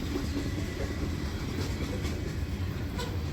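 Freight train 30T, out of Montreal and bound for Binghamton, New York, carrying lumber and paper, rolls past with a continuous rumble and rhythmic clatter of cars on the rails.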